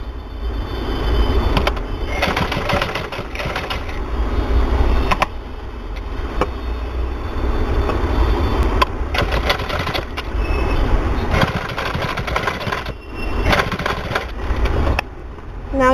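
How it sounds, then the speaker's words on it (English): A sewing machine runs steadily for the whole stretch, stitching lace onto a neck design, with a continuous mechanical whir that swells and eases in bursts under no talk. "Now you have to stitch toward this side with the help of this sewing machine."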